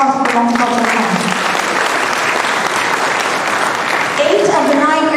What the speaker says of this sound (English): Can we have a round of applause for the Multicultural Center?